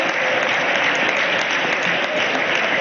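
Sustained applause from a party group in the Spanish Senate chamber, a steady loud ovation of many hands clapping.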